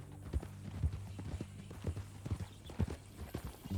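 Horse hooves clip-clop in an uneven rhythm at a walking pace in the video game Red Dead Redemption 2, soft and moderately close, with no voices.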